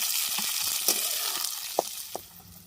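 Onion, green chilli and tomato fry in plenty of hot oil for a fish curry, a close, dense sizzle with a few scraping stir sounds over a brief stretch.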